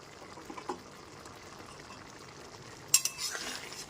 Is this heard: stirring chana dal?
yes